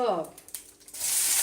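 Mustard seeds splutter and crackle in hot oil at home, a faint hiss of frying that swells into a brighter, steady sizzle by the end, after a brief voice at the start.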